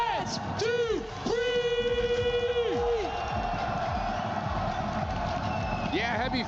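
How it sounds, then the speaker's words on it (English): A large esports crowd at a Call of Duty Black Ops 7 match roars continuously, with sustained cheering and whoops over an announcer's voice and a rising, chanted swell. "the Gentlemates crowd has come out and supported the squad"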